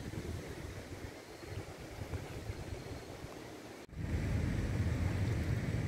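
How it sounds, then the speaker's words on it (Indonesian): A wide, fairly fast-flowing river sends up a steady broadband rush of water, continuous and moderately loud, swelling noticeably stronger partway through with no voices over it. "Contoh sungai ini sangat lebar. Nah, alirannya juga lumayan deras."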